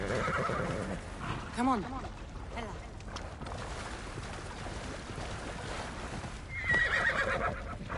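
A flame horse in the video game Assassin's Creed Odyssey gives a loud, wavering whinny early on, with a short second neigh later, while someone talks over steady ambient game noise.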